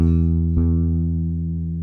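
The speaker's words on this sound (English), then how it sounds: "It's like that modulation or that vibrato type of sound." A single sustained guitar note with a wavering, pulsing vibrato from an MXR Carbon Copy Mini delay pedal's modulation, ringing steadily and slowly fading, with no voices.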